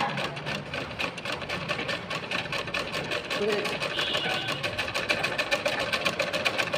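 A sewing machine worked by its balance wheel and treadle pedal runs in a fast, even mechanical clatter, close by, while a person talks over it.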